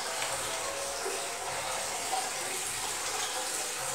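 Water running into a bathroom basin as a brush is rinsed during a basin makeover, a steady close splashing hiss with faint background noise and no clear talk.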